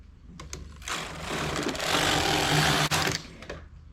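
A domestic knitting machine with a ribber bed knits open stitch for children's tights, its carriage sliding across in one continuous mechanical whirring pass with light clicks at either end.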